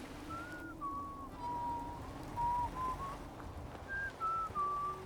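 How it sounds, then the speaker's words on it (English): A video game character whistles a tune, a series of clear sustained whistled notes rising and falling over a faint low background hum, with short pauses between phrases. "I know that song he's whistling."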